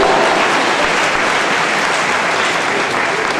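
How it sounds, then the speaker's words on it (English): Dense, loud applause from a graduation ceremony audience fills the hall, a continuous wash of many hands clapping with no break or voices standing out. "Thank you for the clapping."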